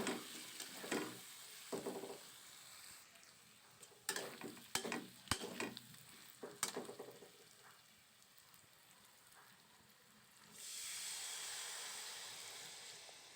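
Turmeric and spices for potato curry (aloo dum) stirred in a pan, with a handful of scraping stirs and soft sizzling, then a steadier hiss of frying toward the end; no talk.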